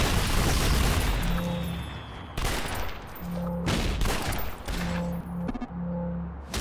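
Bursts of rapid video game gunfire from City of Heroes, loud and close, come in several fusillades separated by short pauses, with no talking.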